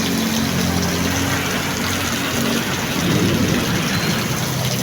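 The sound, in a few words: heavy rain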